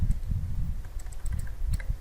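Quick, light taps on a computer keyboard sound in uneven bursts of clicks, up close and fairly quiet, with no talk.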